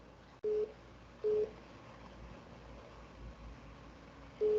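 A telephone rings with an incoming call: short, steady electronic tone bursts repeat at an even pace over a quiet room hiss, with no talking.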